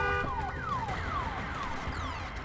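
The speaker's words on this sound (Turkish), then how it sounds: "Genco, şu alarmı kapatmak aklına gelmiyor mu kardeşim senin be?" A looping alarm siren in the video game Days Gone wails with repeated falling sweeps, steady and prominent over a low background rumble, with no talking.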